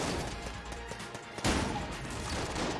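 Shotgun fire in the video game Enter the Gungeon, with several guns and lasers strapped together: dense, continuous volleys of shots and bursts, loudest around a sharp blast midway.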